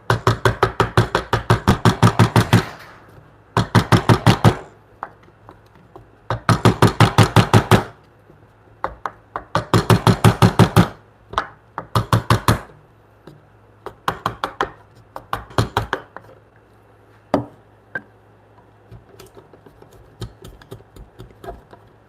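A chisel is struck repeatedly while a mortise and tenon joint is fitted in a woodworking shop, sharp close rapid knocks in dense bursts separated by pauses, later thinning to sparse single taps, with no talking.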